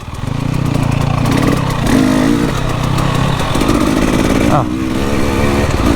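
Enduro motorcycle ridden along a slippery, muddy trail in Wales, the engine loud and close with the revs rising and falling as the rider works the throttle, and a brief exclamation from the rider.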